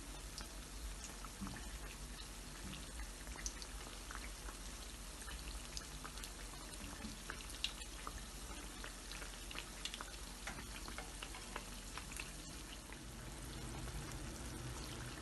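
Balushahi fry in oil with a faint, steady crackle and fine popping, a dense patter of small bubbles with no pauses.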